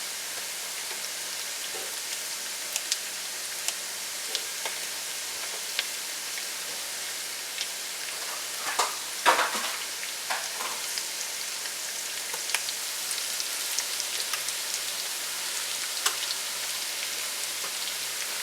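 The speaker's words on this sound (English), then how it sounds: "I'm going to let that cook for about a minute or 2 so the butter will keep browning" Butter and sage sizzle and brown in a pan for pasta, a steady fine crackling hiss that runs evenly throughout with a few small pops and one brief stirring bump near the middle.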